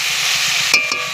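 Taro stolons (kochur loti) being sautéed in a pan as a curry, giving a steady broadband sizzle with a couple of brief stirring scrapes near the end, close and continuous.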